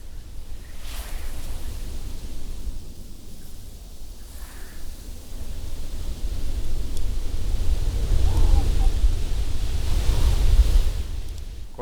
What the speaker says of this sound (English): a windstorm with my hand. You know, I'm using grasp to control the intensity of the wind